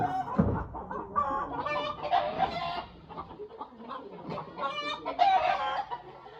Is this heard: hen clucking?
yes